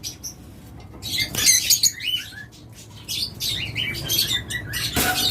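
Grey cockatiel calling among other caged birds at a bird sale, with repeated sharp chirps and squawks, several loud bursts close by over a busy background of wing flutters and chatter.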